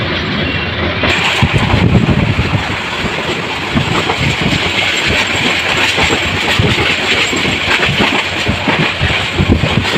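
A passenger train rumbles past up close at Dhaka Airport railway station, loud and steady, with rhythmic clacking of wheels over rail joints throughout.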